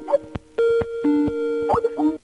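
Skype speaker test sound played through computer speakers, a short melodic chime of sustained electronic tones with a few plucked accents, lasting about two seconds.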